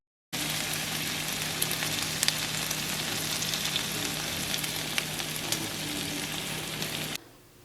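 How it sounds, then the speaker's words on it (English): Corn tortillas fry in a pan of hot oil, giving a steady, close sizzle with crackling spits that runs unbroken for about seven seconds and then cuts off. "I just fried up some corn tortillas"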